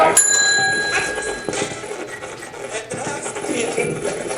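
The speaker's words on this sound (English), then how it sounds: "Do you like playing with the bell?" A bell rings once in a haunted funeral home, its bright tone sounding sharply and then fading, followed by close rubbing and scraping noises.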